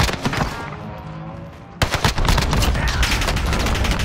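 Rapid gunfire bursts in a Call of Duty Warzone match, loud and close, with a short lull before a dense fusillade of overlapping shots.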